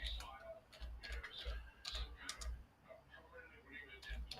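Typing on a Surface 3 keyboard, a steady run of light, close key taps in irregular bursts, with a person talking quietly over it.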